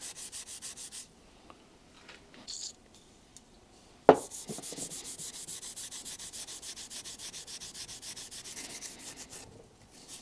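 A Scotch-Brite pad scrubs old gasket material off the aluminum surface of a Volvo 66 (DAF 66) engine, giving rapid, steady rubbing strokes up close with a sharp knock partway through and brief pauses.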